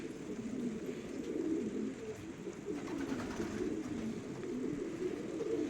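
Soft, low pigeon cooing repeats in gentle rolling phrases over a faint background hum, close by and unhurried, with no talking.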